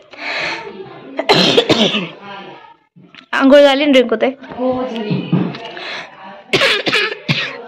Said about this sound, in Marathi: खोकला का बरं यायला लागलं